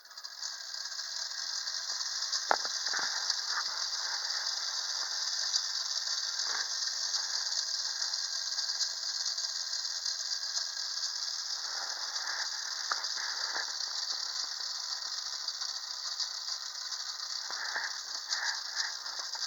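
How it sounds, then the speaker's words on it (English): The century-old wind-up clockwork motor of a Ferdinand Strauss Silver Eagle toy plane runs with a continuous high whirring buzz and faint intermittent rattles, steady throughout. "100-year-old wind-up motor."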